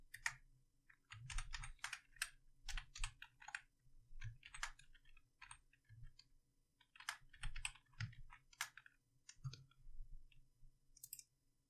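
Quiet, close-up clicking of someone typing on a computer keyboard while building a web page, with irregular bursts of keystrokes separated by short pauses.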